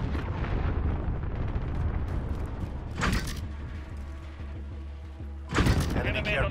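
Enemy cruise missile blasts in Call of Duty: a sustained roaring rumble with two sharp loud bursts, one midway and a bigger one near the end, over continuous game noise.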